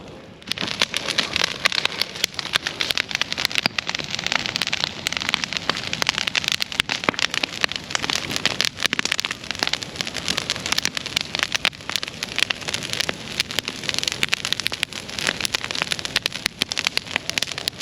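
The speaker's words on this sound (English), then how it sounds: "listen to the crackling of a fire" Steady, dense crackling and popping of a fire, continuous and fairly loud throughout, with no voices.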